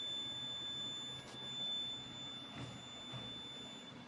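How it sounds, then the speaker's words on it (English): A CT-08 component tester signals a short circuit with a faint, continuous high buzzer tone that holds steady throughout, over a quiet hiss. "we are getting a short circuit indication light on and a buzzer"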